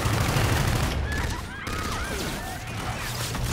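Gunfire in the Call of Duty Infinite Warfare campaign, a dense burst of rapid shots and crashing impacts, loud and close, with game sound effects continuing after the volley.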